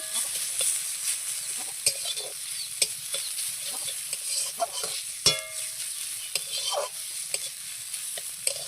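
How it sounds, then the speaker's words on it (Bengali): Onion, chili and garlic fry in oil in a wok, a continuous sizzle broken by regular scraping and tapping of a stirring spatula, close and clear. "পেঁয়াজ আর লঙ্কাটা কড়াইতে দিয়ে একটু ভাজা ভাজা করার পর অল্প রসুনও দিয়ে দিয়েছি"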